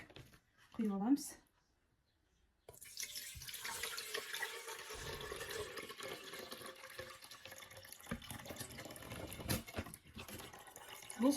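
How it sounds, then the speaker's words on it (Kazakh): Watery buttermilk separated from freshly churned butter is poured off into another container, giving a close, continuous trickling and splashing, with a brief voice at the start and another near the end. "Енді осылай суын бөлек құйып аламыз."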